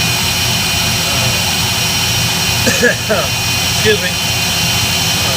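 A lathe turning at 1780 rpm and a high-speed grinder spinning around 30,000 rpm run together as a loud, continuous mechanical whine and hum, with a brief spoken phrase over it.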